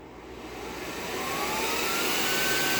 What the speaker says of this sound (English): So you turn the power on.